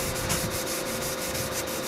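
Wet sanding of a car body panel: a steady, close rubbing and scraping with a faint regular pulse of strokes, with no one speaking.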